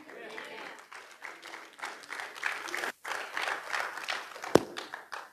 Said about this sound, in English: thank you for that clap